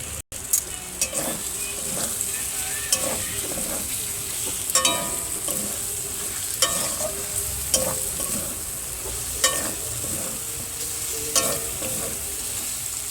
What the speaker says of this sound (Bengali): মাছটার সাথে আর একটু সুন্দর করে কষে নেব।